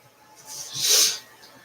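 One sharp, breathy sneeze bursts out close by, rising quickly to a hissy peak and then fading.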